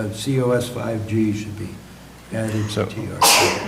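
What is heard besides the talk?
sneeze in a meeting room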